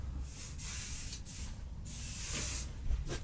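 Bike cleaner sprayed directly onto a bike in a few close, loud bursts of hissing spray, each lasting about half a second to a second, with no talking.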